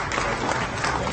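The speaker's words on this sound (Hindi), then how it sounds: "पूरा हॉल तालियों की गड़गड़ाहट से गूंज" A hall audience applauds the successful Aditya L1 solar mission launch in a short, dense burst of many hands clapping together, heard at moderate level.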